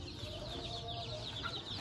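Shamo hens cluck softly in a short, continuous burst of low, murmuring calls, close by amid faint background noise.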